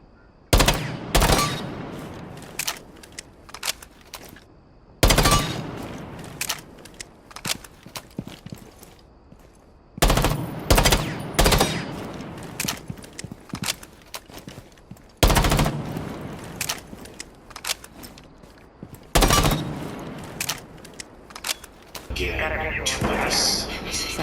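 Gunfire from a fast-firing, low-recoil gun in Rainbow Six comes in repeated bursts, each a sharp, loud rattle of rapid shots, separated by short pauses.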